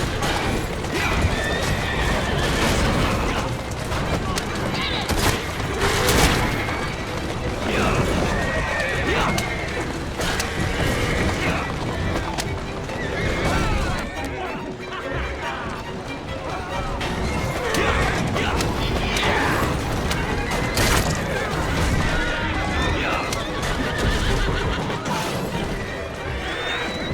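Horses whinny repeatedly over clattering hooves and crashing effects in the video game Assassin's Creed Syndicate, a busy, loud game soundscape with no pauses.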